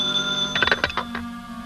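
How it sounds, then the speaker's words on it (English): A telephone rings in a radio drama, with a few quick bell-like trills heard close over a steady background hum. "I knew the phone was ringing"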